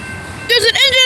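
Freight train horn at a highway road crossing, sounding in loud sustained harmonic blasts near the end of the clip over low rumble, with voices nearby.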